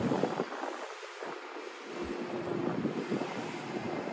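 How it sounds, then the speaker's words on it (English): Heavy wind buffets the microphone inside a mall in Miami in a constant low rumble and roar, loud and close, with no voices. "it is crazy windy, even though we're inside the mall"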